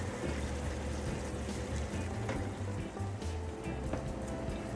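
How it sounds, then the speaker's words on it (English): Boiling water poured into a pot of seared pork for Jamaican brown stew, a continuous rushing, bubbling liquid noise with a low rumble, close and steady. "I'm gonna just add some boiling water to it"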